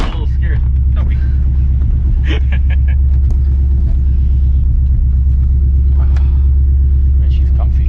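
Supercharged Coyote V8 in a Ford F150 Lightning pickup rumbles steadily from inside the cab while driving, a deep continuous drone with occasional voices talking over it.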